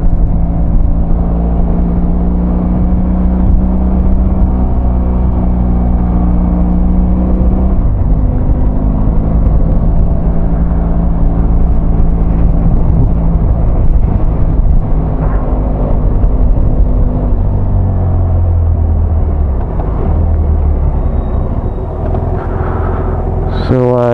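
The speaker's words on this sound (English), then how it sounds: "It seems so loud on the bike. The bike seems loud and everything." Motorbike ride on a cold 7-degree day, heard without earplugs: a loud, steady engine drone with rumbling wind noise that persists throughout, shifting pitch now and then as the engine revs change.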